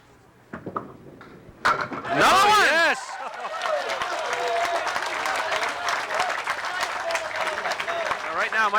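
A crowd at a bowling alley applauds and cheers after a strike during a televised Stars & Strikes match, with a sharp pin crash and then sustained clapping and whoops mixed with voices.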